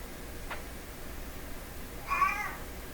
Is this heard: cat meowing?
yes